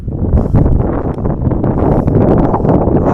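Wind buffets the microphone in a constant low, gusty rumble, loud and close, with no voices.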